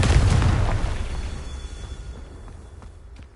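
A Confringo blasting spell from a Harry Potter video game goes off as a single loud, close explosive boom, then its rumble and debris crackle slowly decay over a few seconds.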